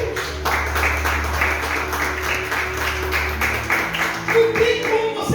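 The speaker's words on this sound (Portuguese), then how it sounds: "Você pode aplaudir a Deus?" A church congregation applauds together during a sermon, a dense steady wash of clapping hands held at an even level for several seconds, with a low background hum and some faint voices mixed in.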